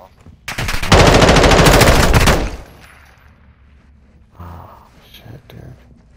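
Gunfire in the DMZ video game, a loud close burst of rapid automatic shots lasting over a second, followed by quieter game noise and brief murmured voices.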